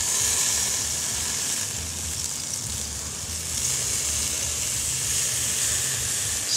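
Meat sizzling on a grill in Nashville, a steady close hiss and crackle of fat that holds even throughout, with no talk over it.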